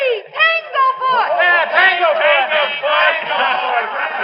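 A radio-drama crowd at a baseball game chants and yells "Tanglefoot" like a battle cry, a loud bunched roar of many voices rising and falling in repeated waves.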